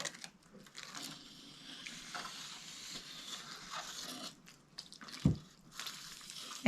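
Water drips and trickles from freshly watered seed trays, a soft, irregular patter near the listener with a brief louder splash near the end.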